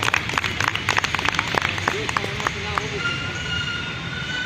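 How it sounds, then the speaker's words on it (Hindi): Crowd clapping at a Karni Sena hunger strike and sit-in protest in Bhopal, a burst of uneven handclaps that thins out and fades under a lingering hum and murmur of voices. "ताली बजाएं।"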